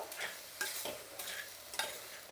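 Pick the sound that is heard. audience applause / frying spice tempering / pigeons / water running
frying spice tempering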